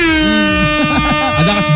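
A horn honked in short repeated blasts, loud and close, with a steady droning tone that carries the whole time. Someone talks over it in a nearby outdoor setting.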